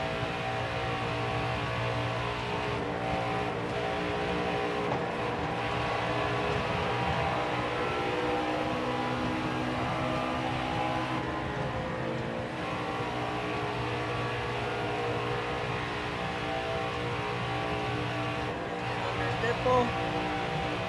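Racing truck engines drone continuously in NASCAR Heat 4 during a Gander Outdoors Truck Series race at Atlanta, a steady, loud pack roar with sustained engine tones and no break across the stretch.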